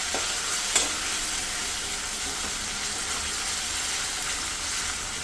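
Chopped tomatoes frying in an oiled pan for a Tamil Nadu style egg curry, with a constant close sizzle, one brief clatter of a spoon early on, and no talking.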